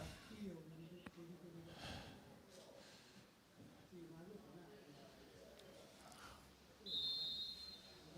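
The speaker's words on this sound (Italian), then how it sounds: "C'è il fischio." A referee's whistle sounds at a women's water polo quarter-final penalty shot, a single sharp steady blast near the end, heard over a commentator talking and a murmuring poolside crowd.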